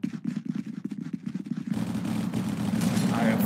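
Gunfire in a Halo video game mod, heard as rapid, rolling bursts of shots that turn into a dense, continuous volley partway through, loud and close, with a voice faintly mixed underneath.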